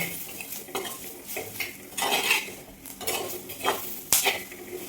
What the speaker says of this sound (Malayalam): അരപ്പൊക്കെ ഒന്ന് മൂത്ത് വരട്ടെ.